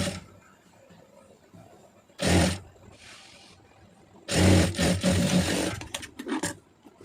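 A sewing machine stitches a cross-cut blouse in two bursts, a short run followed by a longer, louder run, with quiet gaps between them.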